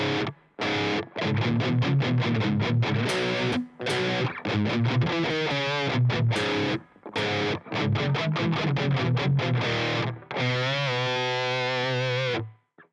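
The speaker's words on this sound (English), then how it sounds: "So the whole pre-chorus put together goes like this slowly." Distorted electric guitar in standard tuning plays a song's pre-chorus slowly, with loud chopped rhythmic chords separated by short gaps and a ringing bent note at the end.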